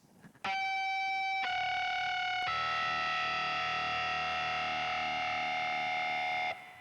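A distorted electric guitar plays layered harmonic clusters through effects, entering in stacked bright sustained tones that build in steps, then ring together as a thick buzzing chord before cutting off.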